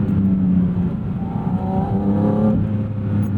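A Porsche sports car's intake roars up close, its low induction drone rising and falling with a brief throttle swell near the middle, loud and steady with no voices.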